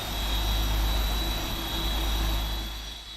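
PMDG 747 jet engines in the Prepar3D flight simulator rumble continuously with a deep, loud roar and a high steady whine, easing slightly toward the end, with no talk.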